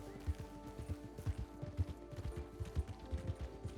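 Horse hooves clip-clop at a steady trot in the RedM WildRP game world, a run of evenly spaced thuds over a faint background hum, with no voices over them.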